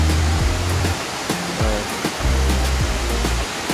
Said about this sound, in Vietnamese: Và đây là ngọn thác Công Vua của chúng ta,